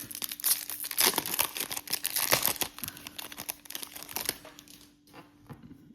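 Foil trading card packs from a 2025 Optic International hobby box are torn open up close, a busy run of crinkling and ripping bursts that taper into quieter rustling, with a faint steady hum underneath.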